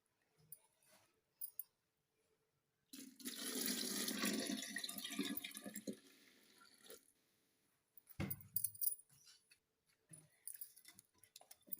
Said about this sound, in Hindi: अब हम इसमें ताज़ा पानी ऐड करेंगे।